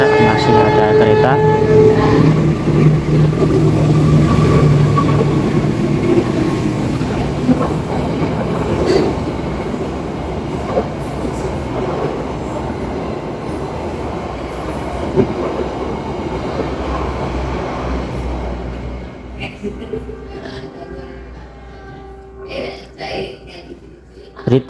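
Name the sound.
train passing by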